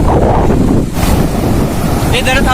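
Ocean waves wash in at Ambolgad Beach on the Konkan coast, a steady broadband roar mixed with heavy wind buffeting the microphone, with no clear break between surges.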